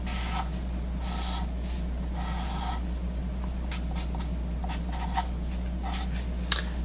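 A pen scratches on paper in short strokes while drawing a triangle, close and clear over a steady low electrical hum, with no talking.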